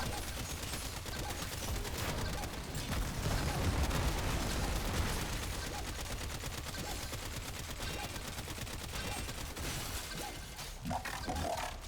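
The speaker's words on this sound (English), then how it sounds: "hit it with the Cedo, and then just fire the gun for a bit" The Cedo gun firing in the video game Warframe: a long, dense barrage of loud gunfire and impact noise that stays heavy throughout, swelling slightly midway.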